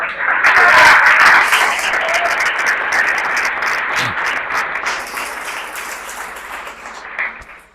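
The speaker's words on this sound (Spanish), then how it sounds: "Dale un aplauso a Él" A church congregation gives loud, dense applause that peaks early and then slowly fades out over several seconds.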